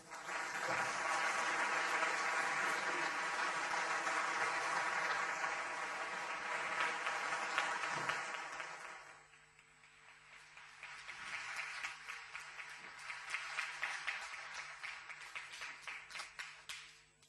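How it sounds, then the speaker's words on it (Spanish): A large audience claps for Slavoj Zizek at a public talk, a long, strong burst of applause that dips briefly midway, then swells again into scattered, uneven clapping. "por favor, un aplauso para Slavoj Zizek"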